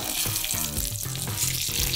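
Curry leaves crackling and sizzling in hot oil as dry fruit namkeen is made, a steady bright hiss with popping spatters, close and continuous.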